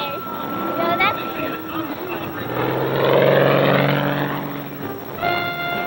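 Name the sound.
propeller stunt plane tumbling and plunging in aerobatic maneuver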